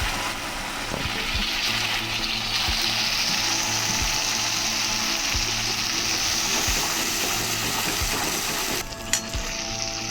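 Spice paste frying with black cumin in a pan while cooking bhangar fish, giving a constant loud sizzle with intermittent scraping and stirring clicks throughout.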